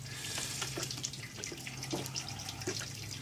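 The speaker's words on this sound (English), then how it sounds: "This is the amazing high-tech sparging process." Water is sprinkled over grain during beer sparging, a faint, continuous trickle and patter with scattered small splashes against a low steady hum.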